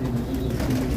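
Pigeons coo softly in a loft on a meat-pigeon farm that keeps white, silver and red birds. It is a steady low murmur throughout, with no talking.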